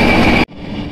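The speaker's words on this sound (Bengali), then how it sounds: "তো ট্রেনের সফর চলতে থাকবে আর তার পাশাপাশি খাওয়া দাওয়া চলতে থাকবে।" A passenger train on the Howrah to Jammu Tawi run roars loudly from close by, then the sound drops abruptly to a quieter, steady rolling rumble within a second.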